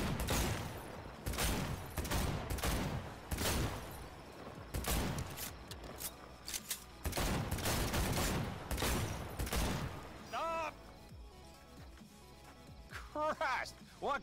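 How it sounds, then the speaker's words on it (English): In Cyberpunk 2077, the Amnesty pistol fires shots in a bottle-shooting contest, a series of loud, sharp reports with irregular gaps and clinks, mixed with voices and game ambience. "take part in a bottle shooting contest to win the Amnesty pistol"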